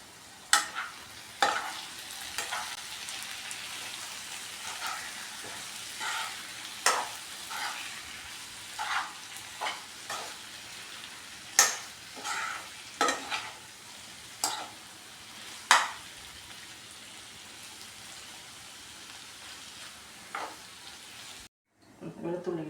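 Fish roe roast in a pan, stirred with a utensil: sharp scrapes and clacks come every second or two for about twenty seconds over a low steady sizzle, then a brief lid sound near the end.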